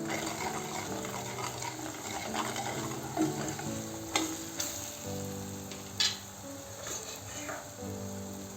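Spices frying in a pan for mung bean sprout bhaji, steady close sizzling with scraping stirs and occasional clinks of the spoon against the pan.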